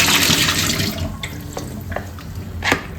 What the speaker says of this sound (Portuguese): Eu vou escorrer esse excesso de água.